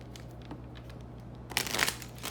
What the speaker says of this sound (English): These are so hard to shuffle.